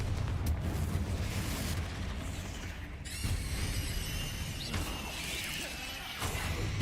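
Fiery spell blasts and crackling bursts in a wizarding video game's combat, a loud, dense wash of booming impacts and shattering debris, with a sharper whooshing burst partway through and no voices.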